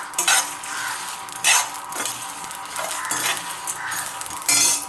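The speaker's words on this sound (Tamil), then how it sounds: "லோ ஃப்ளேமில் வச்சு அப்படியே வறுத்துக்கிட்டே வாங்க." Spices roasting in a kadai over a low flame: a utensil scrapes and clinks against the pan in repeated strokes over a soft sizzle, close and clear, with no talking.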